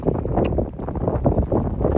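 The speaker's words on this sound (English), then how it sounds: "it's windy up here" Strong, very cold wind roars steadily across an exposed hilltop in the Peak District, buffeting the microphone with a constant low rumble and no voices.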